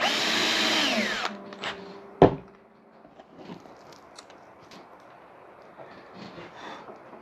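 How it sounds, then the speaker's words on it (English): A power drill whines loudly for about a second while drilling a hole in a harp part, stops with a sharp clack, then quieter workshop rustling and handling noises follow. "And drilling the hole."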